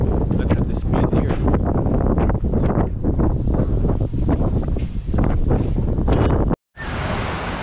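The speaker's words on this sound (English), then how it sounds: "And a lot of leaves and stuff blowing around." Stormy evening wind roars and buffets the microphone while leaves and debris blow around, loud and constant, cut off briefly near the end before resuming.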